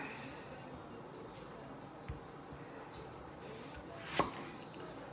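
Small organic onions being chopped on a cutting board in a home kitchen, steady quiet knife taps with one sharper louder chop near the end, faint and fairly close.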